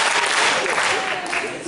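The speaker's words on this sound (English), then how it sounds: "If you're happy and you know, clap your hands." Graduation ceremony audience clapping steadily as a sing-along ends, a dense, even wash of applause filling the hall for under two seconds.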